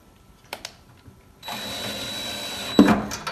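A power drill drives self-drilling screws into a universal strike block on a door, starting after a couple of light clicks and running steadily up close, with a sharper bite near the end.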